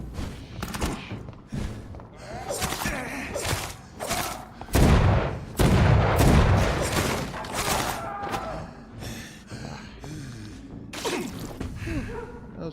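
Machine pistol gunfire in the vampire game Vampyr: rapid, dense bursts of shots and heavy thuds pile up in a chaotic firefight, loud and close, with breathy gasps mixed in.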